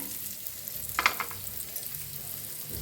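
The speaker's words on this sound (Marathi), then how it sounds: "कसकस बी भाजून घेऊया तुपातच" Khapli wheat roasting in ghee in a pan gives a soft, steady sizzle, broken around the middle by a few sharper scraping stirs, fairly quiet and close with no voices.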